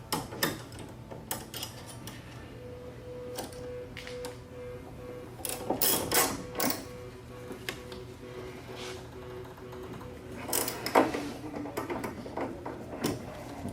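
Tightening the rear sway bar link on a MINI Cooper while an Allen key holds the shaft still, giving close mechanical ratcheting clicks and metallic rattles in irregular bursts, with a faint hum underneath and no voices.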